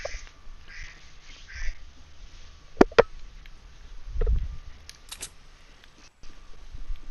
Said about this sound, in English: That was me getting a text.